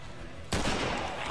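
A loud burst of gunfire erupts in The Walking Dead: Survival Instinct video game, a sudden close volley that keeps rattling after quieter game ambience.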